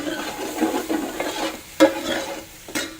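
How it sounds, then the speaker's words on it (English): Vegetables for a Creole seafood jambalaya being stir-fried in a pan, with a steady soft sizzle broken by a few scraping stirs and two sharper clacks. "It means to stir fry something on a heat that the juices of the vegetables are going to release."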